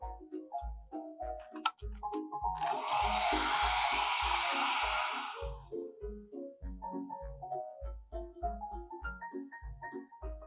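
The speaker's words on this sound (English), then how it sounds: "I'm going to go ahead and use my blow dryer." A blow dryer aimed at a small snowman painting switches on for roughly two seconds as a loud, airy whoosh over light background music, then cuts off.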